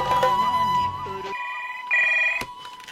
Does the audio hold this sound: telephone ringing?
yes